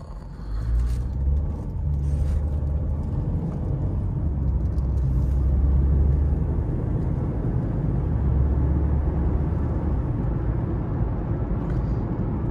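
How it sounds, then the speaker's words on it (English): A 2017 VW Golf 1.8T drives along steadily, its engine rumble and road noise continuous and fairly loud, with gear shifts from the transmission blending into the steady drone. "fairly crisp shifts from the transmission"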